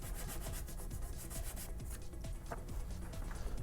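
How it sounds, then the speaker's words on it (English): Sanding primer off a part of a homemade Boba Fett jet pack, a steady close rubbing and scraping with short repeated strokes, continuous and fairly loud with no talking. "I suppose I could sand some of this primer off"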